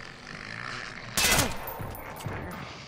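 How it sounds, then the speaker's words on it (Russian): Gunfire in the stealth shooter Splinter Cell Blacklist: after a quiet stretch, a sudden loud burst of rapid shots rings out, then tails off into echoing reports and lower rumbles. "Непрерывная стрельба."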